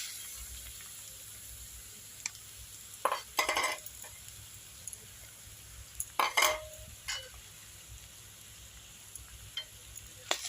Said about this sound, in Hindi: 5 से 6 मिनट के लिए इसे इस कढ़ाई में भून लूँगी।